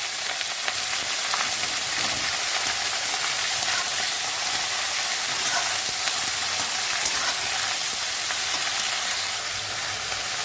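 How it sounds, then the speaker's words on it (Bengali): Potatoes and cabbage fry in a pan with a loud, dense, continuous sizzle and hiss, close up and steady throughout, with no talk over it. "দেখুন আমি আলুটা ভাজা করে নিচ্ছি ঘন্ট বানাবো বলে"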